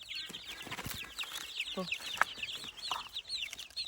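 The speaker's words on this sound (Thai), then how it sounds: "ไก่น้อยก็ออกเป็ดน้อยก็ออก" Chickens cluck and chatter in a busy cluster, moderately close, with faint talking and farmyard noise mixed in.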